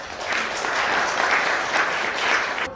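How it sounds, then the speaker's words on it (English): A room full of people claps for panel members as a discussion wraps up: dense, even applause that stays steady and fairly loud for the whole stretch, with no voice over it. "Please give a round of applause for our panel members"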